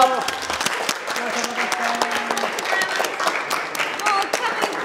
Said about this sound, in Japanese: 拍手いただき、以上で終了になります。